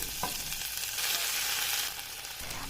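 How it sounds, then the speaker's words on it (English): Moong dal, mustard seeds and chopped kohlrabi being stirred in hot coconut oil in a saucepan: a steady sizzle with a short scrape of the spoon near the start. "I give it a good stir, combining and warming up the whole just for 2 minutes time"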